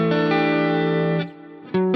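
An electric guitar played through effects rings out an open quartal neo soul chord that sustains for over a second, then a second chord is struck; the tone is thick and distorted and there is no talk.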